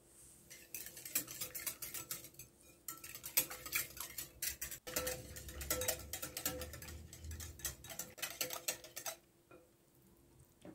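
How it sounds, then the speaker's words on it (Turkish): Rapid metallic clinking of a whisk beating milk with salt and baking powder in a bowl, steady and fast with short pauses, close and fairly quiet. "Tuz eriyene kadar çırpalım."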